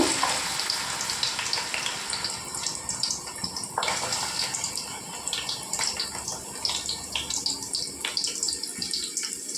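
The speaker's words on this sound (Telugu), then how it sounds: "నూనె వేడెక్కిందండి. ఉల్లిపాయలు వేసుకోవాలండి." Onions hit hot oil in a pot and fry with a loud, steady hiss and crackle, close up and continuous with no talk over it.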